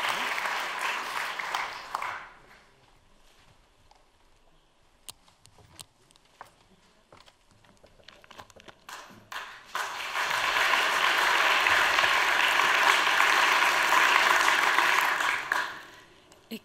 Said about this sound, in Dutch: uw applaus voor de winnaar van de F. Bordewijkprijs 2019, Maurente de Moor